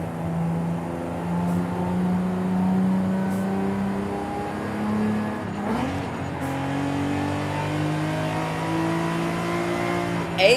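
A 2002 Nissan Skyline GT-R V-Spec II R34 engine revving loudly and close, a sustained rising and falling drone as the revs climb high, with no talk.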